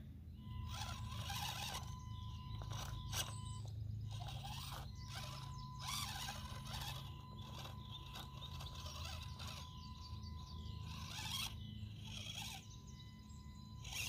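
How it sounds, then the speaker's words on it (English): An upgraded motor in an SCX24 RC crawler whirs and whines steadily while driving, with clicking and ratcheting gear noise and occasional squeaks throughout, close by and fairly quiet. "whole lot more torque in this motor. This thing just goes nicely."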